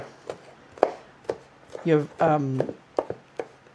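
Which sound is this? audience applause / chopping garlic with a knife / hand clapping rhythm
chopping garlic with a knife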